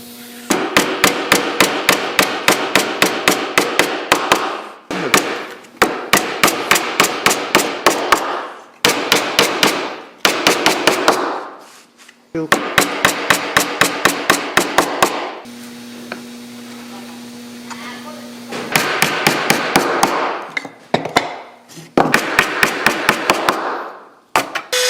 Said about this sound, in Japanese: 組み立て、これをね、ビスじゃなくして釘でいきます。